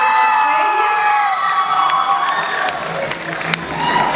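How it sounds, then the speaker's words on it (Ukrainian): Stage audience at a KVN comedy show cheers and shouts, a loud continuous crowd roar with high excited voices and scattered claps throughout. "Аплодуйте, аплодуйте"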